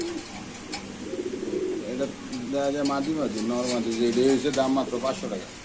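Several pigeons, including blue bar birds, coo in low, throaty rolling bursts, close by, at a pigeon sale, with a voice talking over them throughout.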